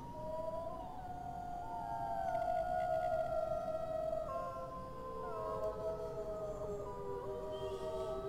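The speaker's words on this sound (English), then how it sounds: "Nope, that's just wolves howling." Several wolves in the video game WolfQuest howl together, long overlapping wavering cries rising and falling over a steady ambient bed, moderately loud and sustained without pause.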